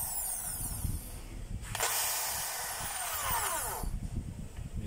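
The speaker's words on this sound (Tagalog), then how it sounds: "titest natin yung hammer" A power tool's hammer function is tested in short bursts: a loud, rough whirring that spins up, cuts out and restarts, with rattling hiss between runs, close to the listener.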